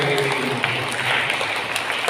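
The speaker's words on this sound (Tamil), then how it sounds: "அதற்கு நன்றியாக கைத்தட்டி நம்ம நன்றிகளை பாராட்டுகளை சிறப்பாக" A church congregation claps hands together in thanks during a baptism of the Lord feast service, a steady, dense wash of applause filling the hall with a low hum beneath it.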